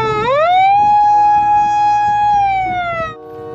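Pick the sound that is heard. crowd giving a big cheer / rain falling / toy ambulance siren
toy ambulance siren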